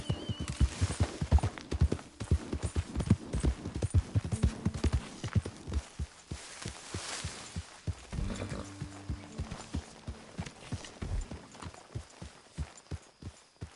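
Horse hooves clip-clop in Red Dead Redemption, a close, steady rhythm of sharp hoof strikes on hard ground running throughout, with the occasional snort and faint background activity.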